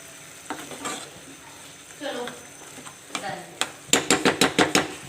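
A sauce cooks in a pan, kept slightly wet, with a soft bubbling sizzle and a brisk run of utensil scrapes and taps near the end, close up and without talk.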